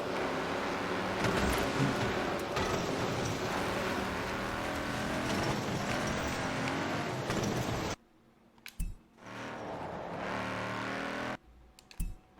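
A hatchback car drives in the racing video game Forza, its engine droning loudly and steadily before cutting to quieter stretches broken by short bursts of engine noise.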